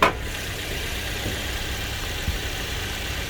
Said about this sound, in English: I'll keep that running. We can hear the motor there as well.